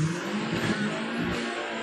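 Two cars, among them a Jetta Turbo, accelerate down a 400-metre drag strip at the Autódromo Internacional Francisco Villa in Chihuahua, a sustained engine roar heard from a distance, alone with no voices.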